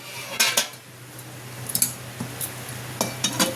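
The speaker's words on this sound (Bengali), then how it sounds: "এবার আমি এটা ঢাকা দিয়ে দেবো।" Metal lid set onto a cooking pot of pilaf rice: several close clinks and clatters of metal on metal in short clusters over a low steady hum, no talk.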